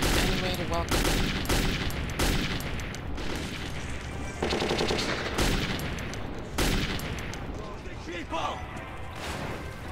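Rapid automatic gunfire in the first-person shooter Metro 2033, dense sustained bursts with loud crashes, close and continuous, with voices talking over the shooting.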